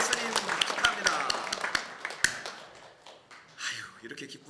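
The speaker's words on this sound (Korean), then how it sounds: "박수 한 번 더" A congregation claps in quick, scattered bursts at a Christmas church service, the sharp handclaps trailing off after a couple of seconds into a speaking voice.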